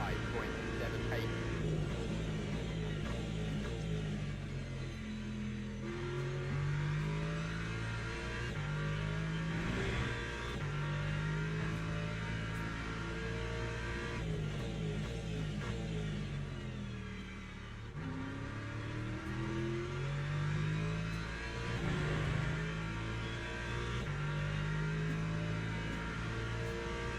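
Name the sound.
Porsche and Aston Martin race cars in Le Mans Ultimate video game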